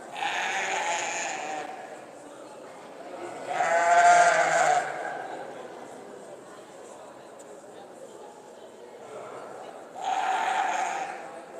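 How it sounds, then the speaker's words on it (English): Valais Blacknose sheep at a show ring in Borderway, Carlisle, giving a few loud, drawn-out bleats spaced several seconds apart, with a show commentator talking over the background. "just a little bit of moving about as some of the sheep come to the fore of the line"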